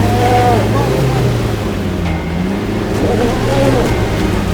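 A vehicle engine drones and labors steadily with low rumbling as a pickup is towed through thick mud, rising in pitch at moments as it strains, loud and close throughout.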